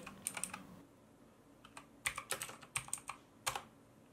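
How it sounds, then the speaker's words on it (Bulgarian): Crisp, clicky keystrokes from a Marvo Pro KG965G mechanical keyboard with blue switches in quick irregular bursts, close and fairly quiet, with brief pauses between runs of typing. "Ето може да добиете представа за звука отписане на клавиатурата."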